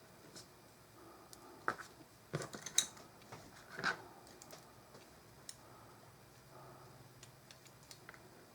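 Small scissors trim tiny cut pieces of real plants for miniature models, giving sparse, faint, crisp snips and light clicks spaced irregularly in a quiet room.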